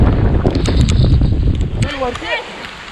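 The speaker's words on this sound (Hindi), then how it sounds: "हवा काफ़ी तेज़ है" Loud wind buffets the microphone in a steady rumbling roar at Kohoj Fort, Palghar, easing near the end as a voice speaks briefly.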